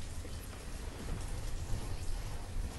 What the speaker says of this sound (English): is this rain loud?